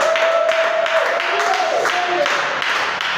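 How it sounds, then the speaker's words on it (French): Church congregation applauding during a French-language service, a dense continuous wash of many hands clapping together, loud and sustained. "Est-ce qu'on peut encore applaudir?"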